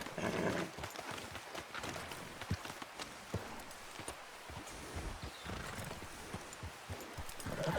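A horse in the video game Red Dead Redemption 2 clip-clops steadily at close range, with hoof thuds and a neigh, under a continuous bed of outdoor game ambience.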